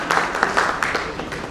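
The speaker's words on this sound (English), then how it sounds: "So I think we need to have one big round of applause for that for the evening." A conference audience at the ISC 2023 inaugural session in Jaipur breaks into brief, steady applause, with close, uneven clapping filling the hall for a moment.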